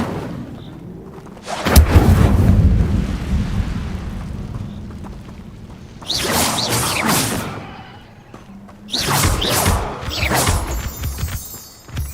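Incendio fire spell cast repeatedly in Hogwarts Legacy, three separate bursts of roaring, crackling flame, each a loud whooshing blast lasting a second or more, with quieter ambience between.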